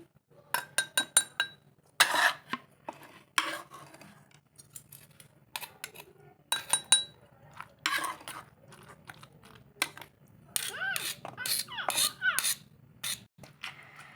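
Gongura leaves and tomato pieces pounded coarsely for chutney, a series of sharp knocking and grinding strikes in irregular bursts, close and clear with short quiet gaps between them.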